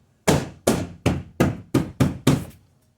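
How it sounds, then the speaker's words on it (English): A Nissan door panel is tapped into place, giving seven sharp, evenly spaced knocks in quick succession, close and loud with no talking. "Line up the panel and just tap on it."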